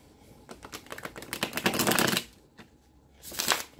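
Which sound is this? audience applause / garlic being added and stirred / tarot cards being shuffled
tarot cards being shuffled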